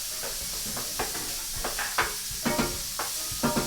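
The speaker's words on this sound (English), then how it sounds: "our onions, peppers, and celery. That's the trinity right there. Get those sautéing up." Onions, peppers and celery sautéing in a pan, a constant close hiss of frying broken by soft rhythmic stirring scrapes, no one speaking.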